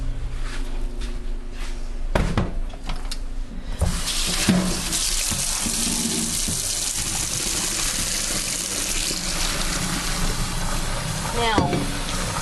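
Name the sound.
draining and rinsing nokedli noodles in cold water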